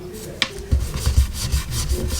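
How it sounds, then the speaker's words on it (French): A small paintbrush being cleaned by rubbing, giving repeated soft scrubbing and rasping strokes at close range, with a sharp tap near the start and a low television murmur in the background. "Normalement on fait ça, ça nettoie le pinceau."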